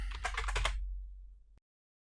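Computer keyboard typing, a quick close run of about half a dozen keystrokes into a search field, then silence.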